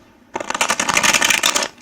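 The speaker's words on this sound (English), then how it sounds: "I'm a very bad riffle shuffler, so when I can shuffle like that instead of in clumps" Tarot cards from the Carnival at the End of the World deck being riffle shuffled up close, a dense, fast flutter of snapping card edges lasting under two seconds with no voices.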